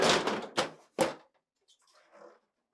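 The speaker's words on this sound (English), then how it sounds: "then pull the upper drawer forward and tilt it up and out" The upper freezer drawer of a GE refrigerator slides forward and lifts out, heard as a few close scraping bursts followed by fainter rattles as it comes free, with no voices.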